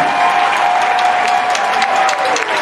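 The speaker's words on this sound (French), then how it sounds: "vous pouvez vous acclamer, chers paroissiens" Parishioners applaud in church at a parish's 50th anniversary celebration, a steady dense clapping from a large congregation that holds at an even level throughout, with a faint sustained tone running beneath.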